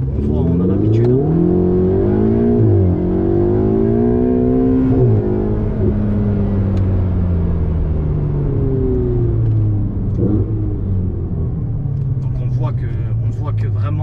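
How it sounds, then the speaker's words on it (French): A Ferrari 488 GTB engine revs and rumbles loudly, pitch climbing then easing as it accelerates, close by and continuous throughout with no talking. "on voit que vraiment ce bruit de chez Ferrari, c'est vraiment quelque chose"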